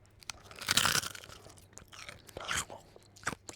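Chicken nuggets are bitten and chewed close to the mic, giving a few loud crunches and then softer chewing with quiet pauses between them.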